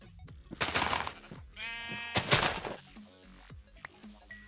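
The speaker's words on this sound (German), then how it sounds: "Ich habe eine Kuh gefunden." A Minecraft cow lows in short bleating bursts, each a rising moan, recurring two or three times over the game's ambient sounds and footsteps, fairly close and moderately loud.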